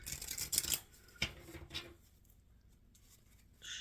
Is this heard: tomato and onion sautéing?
no